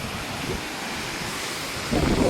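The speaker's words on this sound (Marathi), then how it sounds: "धबधबा" A steady broadband rush of the Lakshmi waterfall in Made Ghat near Pune, heard from a distance and mixed with wind noise on the microphone.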